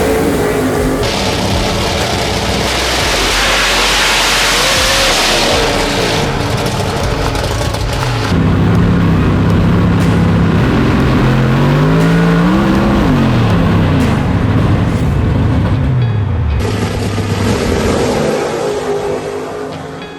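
A Mountain Motor Pro Stock race car engine fires up and runs loud and close, its deep roar rising and falling in pitch through revs, with a sustained rumble throughout.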